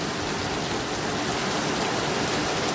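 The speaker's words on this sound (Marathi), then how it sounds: "आपण बघू शकतो पालघरमध्ये सर्वत्र पाऊस कोसळतो" Heavy rain pours down across Palghar, a dense, even roar of falling water that fills the whole short stretch without a break or any voices.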